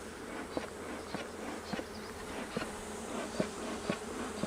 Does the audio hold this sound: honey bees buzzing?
yes